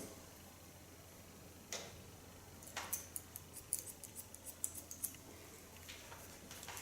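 Scissors cutting hair during a pixie cut: a quick run of soft, crisp snips and ticks, close and quiet, coming in irregular clusters over faint room noise.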